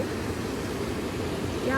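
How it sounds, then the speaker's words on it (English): A small river flows through quiet countryside, its water making a steady, soft, even rush with no breaks. "This is a small river around."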